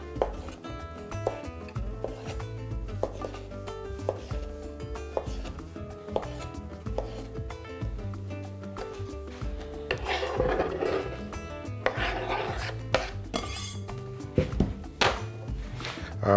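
Knife cuts pickled cucumbers diagonally on a board, giving a run of quiet, irregular crisp chops with scraping in between, close and fairly soft.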